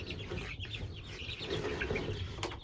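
Chickens cluck softly as chicks are given feed, a faint, close scatter of short clucks with a little wing flapping over a low background rumble.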